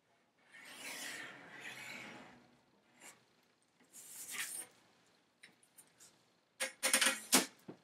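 Pencil dragging across pattern paper while a skirt sloper is drafted, heard close and dry: a long rasping stroke, a few shorter scratches, then a burst of quick scraping strokes near the end, with no talk.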